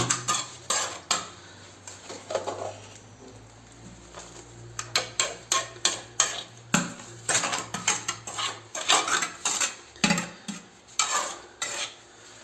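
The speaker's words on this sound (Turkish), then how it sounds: "taşımızın yanından ara boşluktan harcımızı dolduruyoruz" A trowel scrapes and clinks as cement mortar made of cement and fine sand is packed into the gap beside a stone, in repeated short gritty strokes, close and alone.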